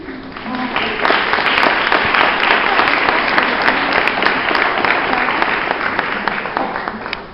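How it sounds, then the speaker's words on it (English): Audience applause at a talk event: a full, steady round of clapping that rises quickly, holds evenly for several seconds and fades near the end. "big applause"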